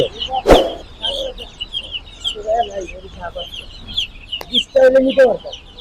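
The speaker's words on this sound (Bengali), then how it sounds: "আচ্ছা এটা আপনার কি মুরগির বাচ্চা এটা হলো হাইব্রিড সোনালি পনেরো দিনের" Fifteen-day-old hybrid Sonali chicken chicks cheep and cluck in bursts at close range, with a sharp knock near the start and people talking over them at a poultry chick seller.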